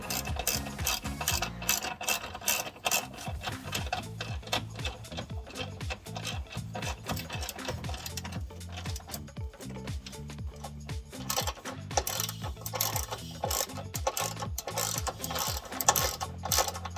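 Ratchet tightening bolts on chassis jacking rails of a 2015-2022 Ford Mustang, rapid clicking pawl strokes in repeated bursts with short pauses, close and fairly quiet with no talk.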